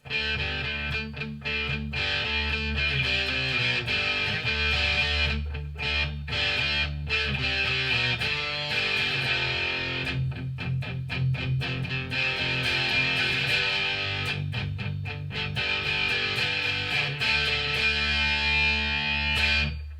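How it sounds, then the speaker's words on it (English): Electric guitar through a JOYO Hot Plexi distortion pedal with the distortion set around 12 o'clock plays continuous chords and riffs, thick and loud, with no voices. "real good, rich, classic style distortion"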